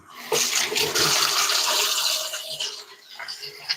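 Tap water runs in a home kitchen while hands are washed before baking, a steady broadband rush that starts abruptly, holds fairly loud and close, then thins into softer splashes and drips near the end; no talking.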